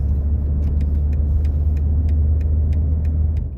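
A self-driving car cruising at about 38 km/h through an urban street in Madrid gives a steady, close low engine and road rumble, continuous and even, with faint clicks above and no talk.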